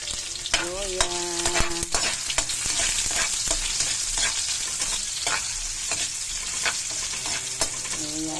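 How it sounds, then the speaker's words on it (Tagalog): Onion, garlic and ginger sautéing in a pan as they are stirred, a continuous close sizzle with scraping utensil strokes against the pan, no talking. "Mix natin guys yung sibuyas. Tapos sabay na rin natin ang loya."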